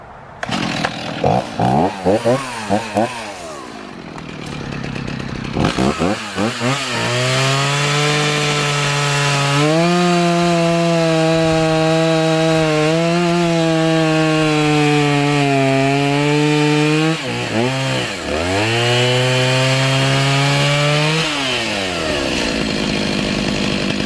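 A chainsaw trims a log for lumber, revving in short bursts before settling into a long, loud, steady cut that dips in pitch under load, then eases off and revs again.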